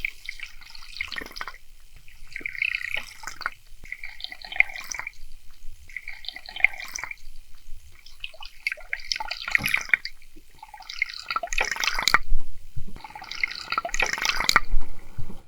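Triple-blade buzzbait fishing lure churning across water, giving bursts of splashing and gurgling disturbance in irregular surges that grow denser and louder toward the end, close by with no talk.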